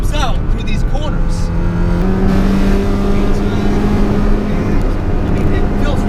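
An Acura Integra Type R engine held at high RPM through corners, a loud steady drone with rising and shifting pitch, heard from inside the car under a voice talking.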